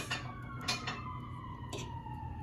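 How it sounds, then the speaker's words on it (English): A distant siren wails steadily in the background, a sustained tone drifting slightly lower, with a few brief clatters and rustles closer by. "if you hear those sirens, I don't know where they're going"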